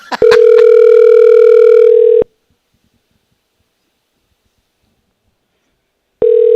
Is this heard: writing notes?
no